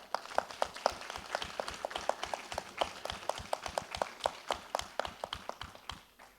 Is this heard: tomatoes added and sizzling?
no